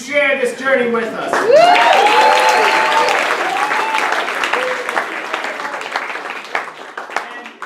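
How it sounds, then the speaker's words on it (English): A variety show crowd bursts into loud, steady applause, with cheers and whoops riding over the clapping at first, then the many hands gradually fade toward the end. "A round of applause for the women in the audience who shared this journey with us."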